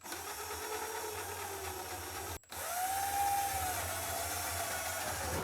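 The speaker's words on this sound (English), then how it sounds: "now I'm going to drill through the drywall" Continuous whirring whine of a power drill running close by, pausing briefly then resuming as it bores steadily through drywall.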